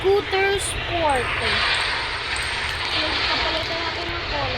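A steady engine drone from an Air Scooter Sport vehicle in a Minecraft-style school party game runs as an even hum for several seconds, while a voice talks over it.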